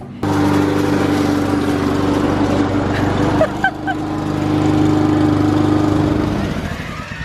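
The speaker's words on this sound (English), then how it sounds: "And Jeremy's mowing the lawn" A lawn mower engine running steadily in the dark, loud and close with a constant drone, dipping briefly midway before resuming at full level.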